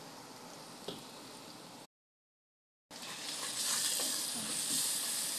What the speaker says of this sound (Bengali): এটাকে ভালো করে কষাই নেবো আমি